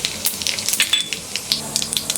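Half a teaspoon of cumin seeds crackles and sizzles in a pan of hot oil. Quick, uneven pops and spits sound up close over a soft frying hiss.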